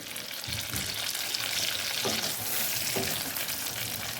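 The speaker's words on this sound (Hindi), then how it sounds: "मुझे 5 मिनट हो गए इसे फ्राई करते हुए" Ground masala frying with meat in a pan for a gravy curry, a dense continuous sizzle with a few stirring knocks, close and loud, no talking.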